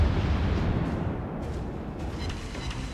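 Muffled warship cannon blasts rumble in a World of Warships naval battle, a low booming wash with dull thuds rolling underneath, fairly quiet and without speech.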